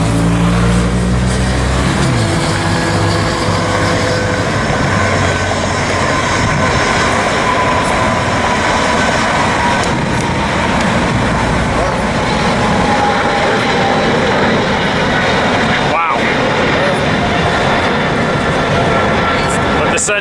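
A jet airliner departs LAX at sunset, its broad engine roar sustained and loud throughout, rising and spreading as it climbs away, with a person briefly talking over it.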